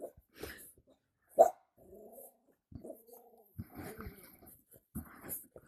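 Puppies in the VR game DetectiveVR bark and growl in short, scattered bursts, with small yips and whimpers at close range, while a voice calls out intermittently between them.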